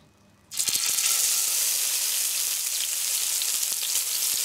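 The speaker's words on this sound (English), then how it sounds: "put in the stuffed mackerels. The oil is now hot." Stuffed mackerel rolls drop into hot frying oil, and after a brief quiet start a loud, steady broadband sizzle bursts up and holds close and continuous, with faint pops scattered through it.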